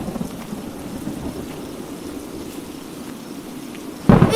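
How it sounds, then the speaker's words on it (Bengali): A thunderstorm with heavy rain patters and rumbles steadily at a low level, then a sudden louder burst of noise breaks in near the end. "এই ঝড় বৃষ্টিতে যদি আমাদের বাড়ি ভেঙে যায়, তখন আমরা কি করব?"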